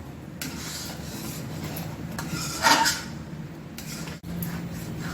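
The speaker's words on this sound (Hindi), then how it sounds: "धीमी आंच पर इसे लगातार चलाते रहना है।" A spoon scrapes steadily around a pan of thickening milk being cooked down for peda, a soft continuous rasp with one brief louder metallic scrape, heard close against a low hum.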